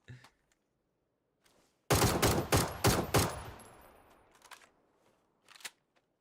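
A burst of rapid gunfire in PUBG, several loud shots in quick succession followed by a fading echo, with a few isolated pops before and after.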